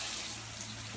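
Water runs steadily into a wet room shower drain with a soft, even hiss, faint and close, with no one speaking.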